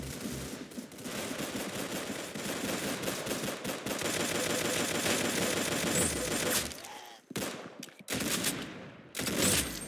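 Sustained rapid gunfire, dense bursts of automatic shots running continuously, then breaking into a few separate bursts separated by short pauses near the end.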